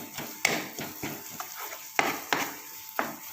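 A spoon stirs and mixes kebab mixture in a pot, giving several sharp scraping knocks and clinks at irregular intervals over a soft sizzle, close and fairly quiet.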